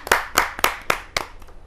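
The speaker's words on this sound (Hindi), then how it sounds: "जोरदार तालियों के साथ उमंग सरीन जी का हम स्वागत करते" An audience at a Hindi poetry gathering claps to welcome a poet, about six sharp, evenly spaced hand claps ringing out close and clear with no talk.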